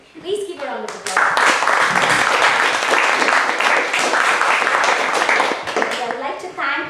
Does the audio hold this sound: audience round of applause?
yes